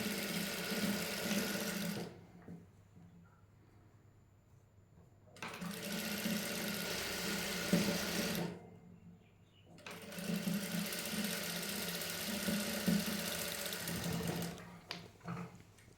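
A sewing machine stitching fabric slowly for a new skirt-hem design, running in three long bursts with short pauses between, a steady close whirring hum with faint speech under it.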